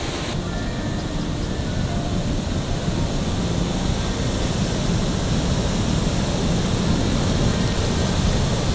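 Steady, dense roar of a high waterfall on the Zambezi River, a broad, constant rush of falling water with no pauses, loud and enveloping as if near the spray.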